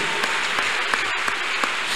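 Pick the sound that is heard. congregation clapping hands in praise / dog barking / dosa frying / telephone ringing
congregation clapping hands in praise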